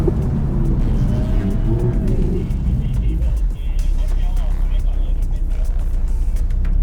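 A Mercedes-AMG SL convertible drives at a racetrack driving event and brakes: a loud, close, steady engine and road roar that eases partway through, with voices talking over it.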